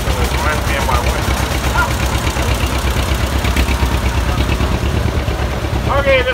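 A vintage tractor, the Pioneers owned by Western Minnesota Steam Threshers Reunion, idles at a parade with a steady low throbbing beat, while someone talks over it nearby.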